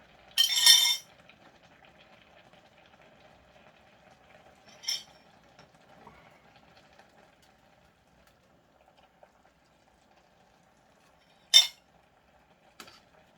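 Army stew (budae-jjigae) being ladled from the pot into a bowl, giving a few scattered, short clinks of utensil against dishes, separated by long quiet gaps with no talk.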